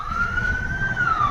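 An ambulance siren stuck in traffic wails in one long, rising-and-falling tone, loud and close, over a dense rumble of surrounding vehicles.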